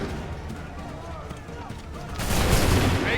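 Musket volley gunfire in Assassin's Creed 3: a sudden loud, dense crackle of many shots at once bursts in after shouted commands and sustains to the end, with voices heard over the scene.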